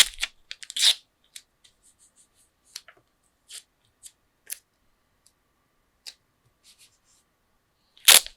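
Masking tape being pulled and torn off in short crackly bursts, with scattered small taps and sticks in between, close and dry in an otherwise quiet room.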